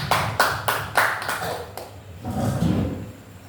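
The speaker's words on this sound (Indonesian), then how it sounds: "Tepuk tangan buat Ibu Lydia" A small group claps for Ibu Lydia at an Indonesian mentoring session, several distinct near claps in a loose rhythm that thin out into quieter room noise.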